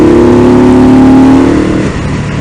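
An Indian Scout Bobber motorcycle with a performance intake and straight slip-on exhausts: loud, close engine drone holding a steady tone, then easing off toward the end, with no talking.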